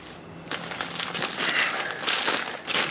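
Crinkling plastic bag being opened around a lab culture sample, a steady crackly rustle that swells and continues for a few seconds at close range, with no voices.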